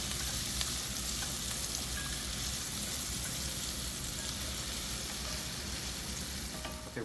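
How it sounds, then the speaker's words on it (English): Butter and white wine sizzle steadily in a pan with mushrooms, a loud, dense crackle that holds unbroken from start to finish with no talk. "I'm melting my butter, and I'm going to add 2/3 cups of my white wine"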